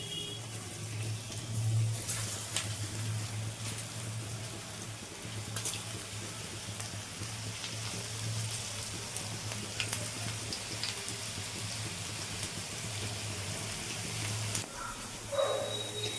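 Continuous soft sizzling of okra pakoras frying in hot white oil, fairly quiet and even, with a low hum underneath and occasional faint crackles.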